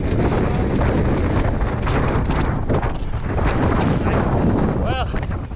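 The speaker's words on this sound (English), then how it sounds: "It's so windy." Strong winter wind roars and buffets the microphone near the summit of Hedgehope during a half-marathon fell race, a loud continuous rush with gusty surges.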